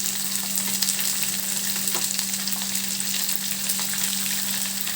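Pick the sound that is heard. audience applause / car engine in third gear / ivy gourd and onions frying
ivy gourd and onions frying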